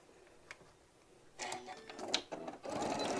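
A home sewing machine runs a quarter-inch seam along a hobo bag, starting faintly and then whirring in short bursts that grow louder and steadier toward the end, close by and without voices.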